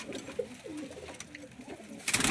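Desi pigeons cooing in Mumbai at night, soft throaty coos repeating close by over a faint hiss, ending in a brief louder rustle.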